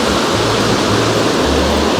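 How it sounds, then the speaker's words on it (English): Water gushes out of a large marble cave at Little Huson Caves on Vancouver Island, a close, loud and continuous rushing hiss with no voices. "Quite a large cave with a bunch of water coming out of it."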